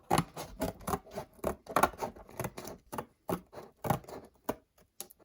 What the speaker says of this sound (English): I don't know if these scissors are long enough to be able to cut without deforming the rest of the map.